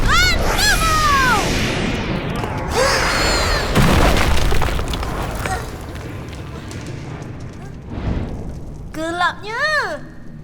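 A rocket shot in an animated cartoon bursts with a loud boom, followed by rumbling blasts and sweeping whooshes, with character voices speaking over and around it.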